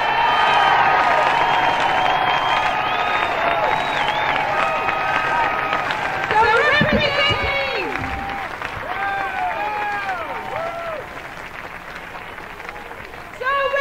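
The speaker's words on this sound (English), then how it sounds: "How about a terrific round of applause for the National March on Washington Committee?" Outdoor crowd applause and cheering at the National March on Washington rally, broad and sustained throughout, with whoops and shouting voices mixed in and a brief rise in the middle.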